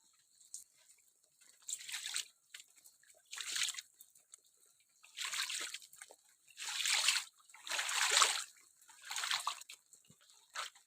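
Heavy monsoon rain pours down on a yard that is flooding. It comes in repeated surging bursts of hissing splatter over about ten seconds, with drips and splashes between the gusts and no voices.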